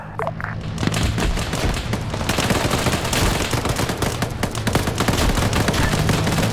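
Dense, continuous small-arms and automatic gunfire in the military video game Arma 3, loud and crackling throughout with overlapping shots and no clear pauses.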